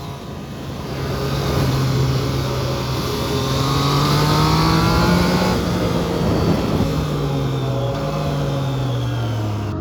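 A Triumph Trident 660 motorcycle engine pulls steadily under load while riding, rising in pitch through the gears with a shift near the end. It is loud, close and continuous, with no talking.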